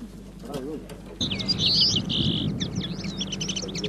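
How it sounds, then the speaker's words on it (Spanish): Caged goldfinch and linnet decoy birds sing nonstop in the field, bright twittering trills and warbling phrases close by, beginning after a brief quiet stretch with a faint low voice. "Los reclamos espoleados por la cercanía de un gran número de jilgueros y pardillos, sobre todo de los primeros, cantan sin cesar"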